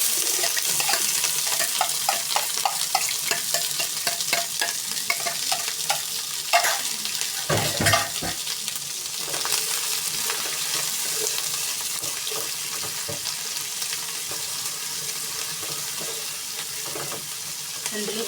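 Onions cook in a pot as the base for a fish stew, giving a continuous close sizzle broken by stirring and scraping for the whole stretch. No one speaks.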